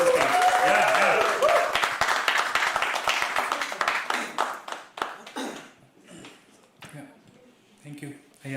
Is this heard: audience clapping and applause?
yes